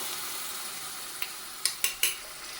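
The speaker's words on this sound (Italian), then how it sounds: "Fregola ormai calda, mettiamo il brodo e lasciamo cuocere come se fosse un risotto." Broth poured onto hot fregola pasta in a pan gives a steady, soft sizzle and bubbling hiss. A few sharp clicks of a utensil against the pan come near the end, and no one talks.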